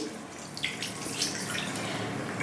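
A running tap splashes water steadily into a sink as soapy hands are rinsed, a constant close, quiet gurgling stream.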